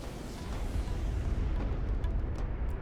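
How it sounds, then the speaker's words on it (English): Artillery cruisers firing automatically in the Deserts of Kharak strategy game, a dense continuous rumble of low booms and blasts, heavy and sustained, with no speech. "he's even going to take some friendly fire from the auto fire on his own artillery cruisers"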